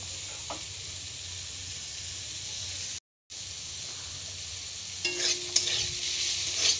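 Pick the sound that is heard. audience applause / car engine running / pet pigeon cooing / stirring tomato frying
stirring tomato frying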